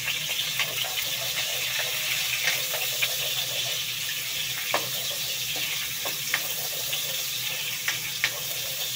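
Onions sautéing in oil mixed with butter in a pan, a steady nearby sizzle with occasional stirring clicks and scrapes, no one speaking.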